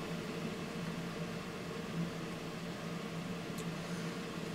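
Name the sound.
space heater running in the background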